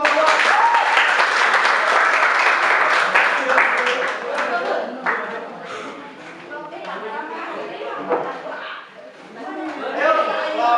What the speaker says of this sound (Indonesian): tepuk tangan dulu kelompok 2